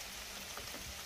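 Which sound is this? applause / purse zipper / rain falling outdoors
rain falling outdoors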